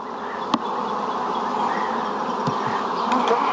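Honey bees at a nuc or package hive during a weekly inspection while honey supers are added, producing a dense, continuous close-up buzzing hum with a couple of faint knocks and no voices.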